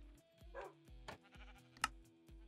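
Blocky Minecraft sheep on a survival farm bleating a few times, quiet and short, among soft game sounds with no one speaking.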